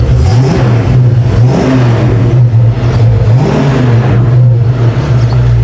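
A 1965 Ford Mustang GT convertible engine growls steadily and loudly at close range, with a few rising revs over a low, throbbing idle. No voices.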